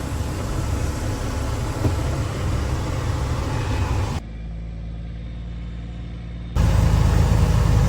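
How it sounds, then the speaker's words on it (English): A semi truck's diesel engine runs as a steady low rumble, loud and continuous, dipping quieter for a couple of seconds midway before returning at full strength; no talk. "It's been a couple months since I drove a semi."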